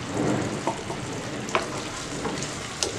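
Fresh fig dessert is stirred in a hot pan, a steady soft sizzle with a few light scraping strokes of the spoon at irregular intervals, close and moderately loud.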